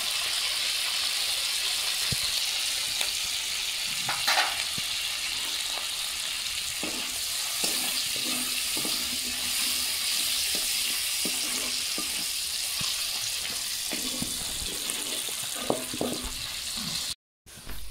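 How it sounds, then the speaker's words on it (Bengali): Continuous crackling sizzle of bay leaves, dried red chillies and panch phoron frying in oil, close and steady, with a few light clanks of a spoon against the pan. "শুকনো লঙ্কা 5 ফোড়ন তেজপাতা ভাজা হয়ে গেছে"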